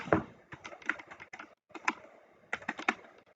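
Fingers type on a computer keyboard in short bursts of quick, close clicks with brief pauses between groups of keystrokes.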